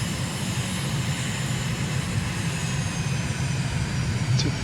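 A fixed-wing airliner in Microsoft Flight Simulator makes a rolling takeoff from runway 26 at Stockholm Arlanda, its engines a steady, loud low drone throughout with a faint higher whine.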